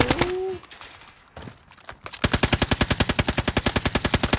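Gunfire from a mountain position in a multiplayer shooter game: after a quiet stretch with scattered pops, a rapid, evenly spaced automatic burst hammers on for over two seconds, loud and close, with no voices over it.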